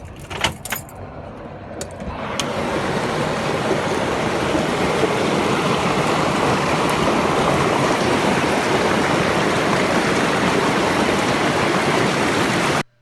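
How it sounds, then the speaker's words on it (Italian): Floodwater pours into a house as a steady, loud rushing roar that swells in after a brief quieter start and continues unbroken to the end, with a few clinks at the beginning. "C'è niente da fare, l'acqua non si ferma"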